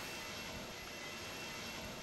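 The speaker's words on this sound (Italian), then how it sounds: "sta rollando anche l'altro aereo" Airliner taxiing at Zurich airport in Microsoft Flight Simulator X, a steady broadband jet engine rumble and hiss that stays loud and even throughout with no talk.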